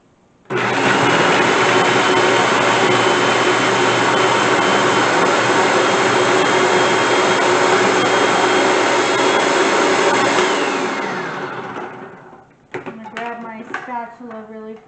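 A food processor runs continuously at full power for about eleven seconds, finely chopping ingredients for a keto blackberry mini cheesecake, then winds down and stops, followed by a few brief clattering handling sounds.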